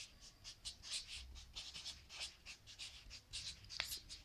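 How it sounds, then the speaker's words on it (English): A pen or marker drawing a block diagram by hand for a VLSI digital logic lecture, heard as a steady series of short, close scratching strokes in an irregular rhythm, with no talking. "let's draw the general block diagram"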